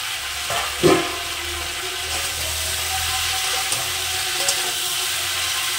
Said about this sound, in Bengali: এবার মাছের মাথাটা দিয়ে দিলাম।